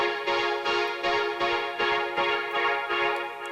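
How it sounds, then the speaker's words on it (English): A distorted, gritty synth sound in a Doja Cat "Need to Know" remake, with the distortion pushing it thick and buzzy. It pulses in an even rhythm of short repeated stabs, loud and alone. "Juicy distortion for this"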